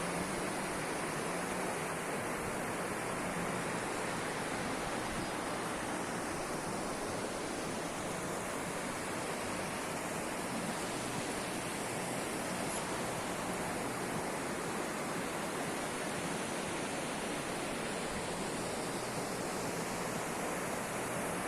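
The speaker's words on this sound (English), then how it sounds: "The river Bias is so noisy" The Beas river rushes past in Manali, a constant broadband roar of turbulent water, steady and enveloping with no pauses, moderately distant and unaccompanied by voices.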